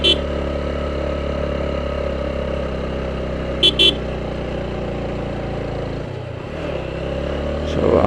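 Motorcycle engine pulling up a hill in first gear on a road near Sajek, a steady droning hum throughout with two short high tonal bursts midway and a brief dip before the engine swells again.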